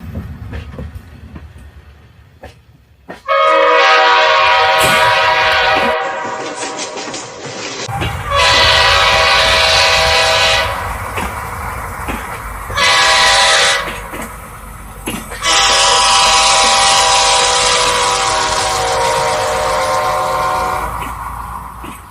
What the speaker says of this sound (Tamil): லோக்கோ பைலட்ஸ் இந்த ஷார்ட் ஹார்ன்ஸை நாலு வாட்டி அடிப்பாங்க